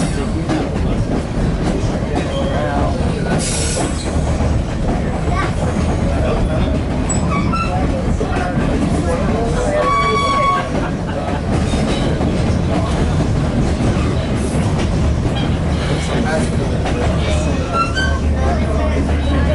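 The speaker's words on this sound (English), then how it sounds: "The train's really loud, scares away most of them." Loud, continuous roar of a White Pass and Yukon Railroad passenger train rolling on rails, with rhythmic clatter and occasional squeals, voices faintly mixed in.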